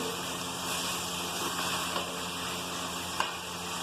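Sliced bell pepper (shimla mirch) sautéing in a pan for an elbow macaroni dish: a close, even sizzle with light stirring scrapes and one sharp clink near the end.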